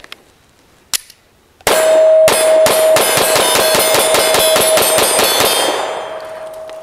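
Smith & Wesson Shield Plus pistol chambered in .30 Super Carry firing a lone shot, then a fast string of about a dozen sharp shots with a steady metallic ringing tone underneath, loud and close, fading after the last round.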